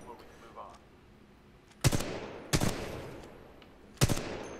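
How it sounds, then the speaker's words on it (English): Three sharp, loud gunshots from a weapon in Titanfall 2, fired singly with uneven gaps between them, each cracking out over a low, steady background hum. "Okay, so now I shoot."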